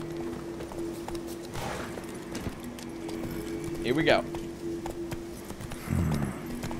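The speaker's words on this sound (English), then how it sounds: "I'm gonna get on my horse." Horse hooves clip-clopping in The Witcher 3: Wild Hunt, a quiet steady gait under a low game hum while someone talks briefly over it.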